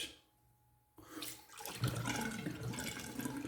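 Water poured from a tap onto shaving soap, a soft steady splashing trickle that starts abruptly after a second of near silence and continues up close.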